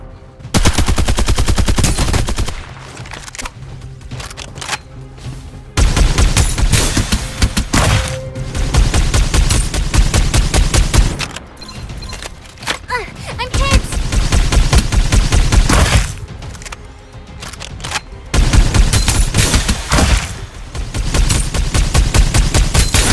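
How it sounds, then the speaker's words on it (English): Rapid gunfire in the battle royale game Farlight 84, long automatic bursts and fusillades with brief pauses between them, loud and close throughout. "Open fire"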